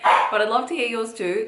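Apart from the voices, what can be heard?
dog barking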